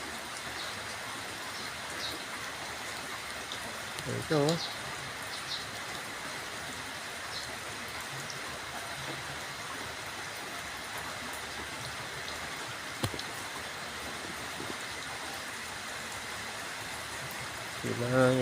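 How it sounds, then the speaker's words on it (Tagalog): Heavy rain falls outdoors around a pigeon loft, a steady broadband hiss that runs the whole time, with people talking over it now and then. "Ayan, patila na yung ulan."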